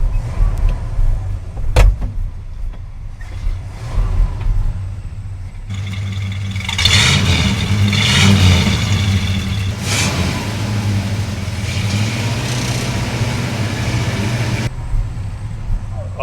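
A 1969 Ford F100 pickup, being revived after years of sitting, runs with a steady low engine rumble that builds louder as it slips into gear and starts rolling, with no brakes and a slipping clutch, close up inside the cab.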